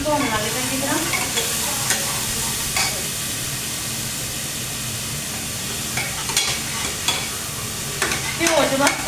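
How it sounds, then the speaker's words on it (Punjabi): Chopped onion and garlic sizzle and fry steadily in a pan for a soybean chunk curry, with a constant close hiss and occasional stirring scrapes and clinks, no talking. "ਇਹ ਹੈਗਾ ਜੀ ਪਿਆਜ਼ ਤੇ ਲਸਣ ਕੱਟਿਆ ਹੋਇਆ ਵਾ ਇਹ ਪਾ ਦਾਂਗੇ"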